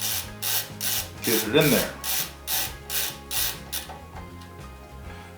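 A hand screwdriver drives screws into the frame of a Prusa MK4 3D printer, making a close, steady run of about eight rasping, ratcheting turns before stopping. A voice speaks briefly partway through.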